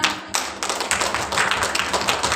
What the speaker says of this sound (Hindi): आपका ताली बजाना